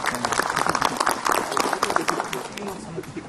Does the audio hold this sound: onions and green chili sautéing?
no